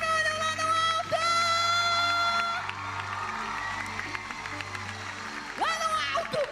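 Crowd applause mixed with cheering, whoops and children's shouts at a youth event, loud and lively, with an announcer's amplified voice and musical tones over the noise.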